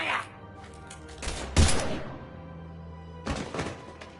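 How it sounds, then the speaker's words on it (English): Gunfire bursts in the sci-fi shooter Mass Effect 3, a couple of loud thumping volleys separated by quieter stretches, with some voice in the background. "Now open fire!"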